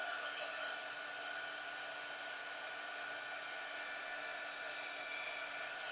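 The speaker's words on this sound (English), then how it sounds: "you just want to use your heat gun and just go all the way around." Heat gun blowing steadily to melt embossing powder on a craft fall treat bag, a continuous even whooshing hiss of air and motor, close and unbroken with no talking.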